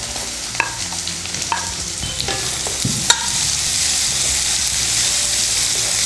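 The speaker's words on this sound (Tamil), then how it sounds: "இப்போ வந்து வெங்காயம் வதங்கட்டும்." Onions and tomatoes sautéing in a pan with ginger-garlic paste, sharp spoon knocks and scrapes at first, then a strong, steady sizzle carrying on alone.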